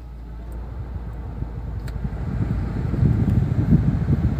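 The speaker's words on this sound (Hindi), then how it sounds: "तो अभी हमने अपना एसी ऑन कर दिया" A car's air conditioner blows on fan setting two with the engine running, a steady airy whoosh over a low rumble that grows louder toward the end, with faint clicks and no voices.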